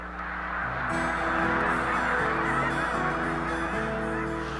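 A flock of snow geese honks continuously during a hunt, a loud, dense chorus of overlapping calls close by with no speech.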